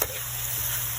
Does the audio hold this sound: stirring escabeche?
yes